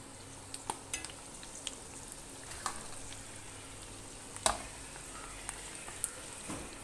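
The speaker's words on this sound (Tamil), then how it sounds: "இப்போ இன்னும் கொஞ்சம் அதையும் வறுத்துக்கலாம்." Banana dry fish frying in oil, a quiet steady crackle with scattered sharp clinks of a utensil against the pan, one louder scrape near the middle.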